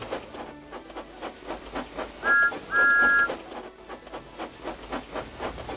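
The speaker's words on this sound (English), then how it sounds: "He whistled merrily as he jogged along the track" Thomas the Tank Engine, a model steam locomotive, chugs along the track with a steady rhythmic puffing, and two short whistle toots sound near the middle.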